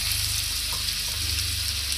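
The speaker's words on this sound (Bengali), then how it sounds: "এখন এটার মধ্যে আলু পেঁপেগুলি ভেজে নেব।" Potato and papaya pieces fry in hot oil with cumin and dried red chilli, giving a steady, close sizzle and crackle that runs continuously, with no talking.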